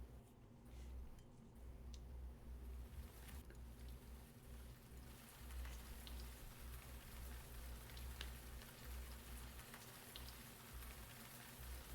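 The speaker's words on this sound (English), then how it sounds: "I love the rain sounds." Steady rain falls in a continuous, even hiss with scattered drop ticks and a low rumbling undertone, faint and distant, with no voices.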